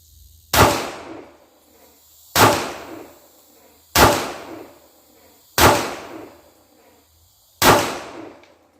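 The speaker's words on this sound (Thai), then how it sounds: "ไปยิงมือเดียวนะครับ ที่ลำตัวนะครับ" Five gunshots from a Glock 43X pistol fired one-handed at a target seven metres away, each a sharp loud crack followed by a brief echo, evenly spaced about every 1.7 seconds.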